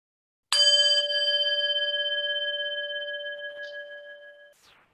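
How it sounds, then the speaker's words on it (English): A single strike of a meditation bell rings out clear and close, its bright metallic tone sustaining with a gentle pulsing shimmer and slowly fading over about four seconds. "I'm going to ring the bell and we'll kind of do a lead into a"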